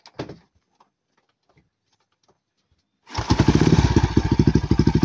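A motorcycle engine is test-started after its spark plug cap is refitted: a few faint clicks and taps in near silence, then the engine catches and settles into a loud, rapid, pulsing idle.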